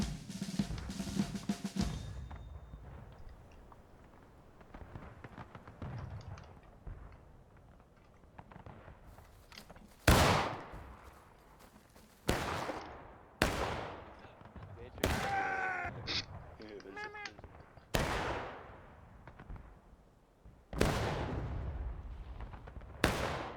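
Volleys of musket fire in a War of Rights public match battle, a series of sharp, loud cracks at irregular intervals with rumbling tails, alongside background battle noise and talk early on.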